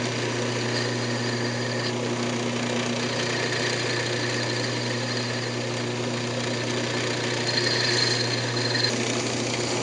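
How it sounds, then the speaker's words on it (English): A wooden Christmas ornament is sanded while spinning on a wood lathe, giving a steady motor hum and a continuous abrasive hiss that stays even and close, with no talking. "Just going to go ahead and sand it up."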